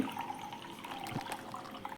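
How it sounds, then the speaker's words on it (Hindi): Water splashes and gurgles steadily at close range while being filled and spilling over, with a continuous wet wash and small splattering bursts, ending abruptly. "पानी भरते भरते सारा पानी गिर गया"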